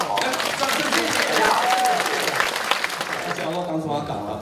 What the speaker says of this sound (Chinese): 掌声谢谢